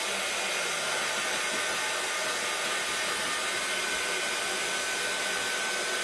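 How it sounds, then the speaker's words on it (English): A hair dryer blows on a painted wooden craft house for a short drying touch-up, making a continuous, even whooshing hiss throughout with no voices. "I'm just going to dry it just a little bit."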